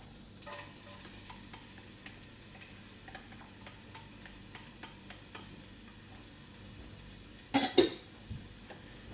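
Onions frying in coconut oil in a pot give a soft, low sizzle with light stirring clicks and scrapes, then a brief louder clatter near the end.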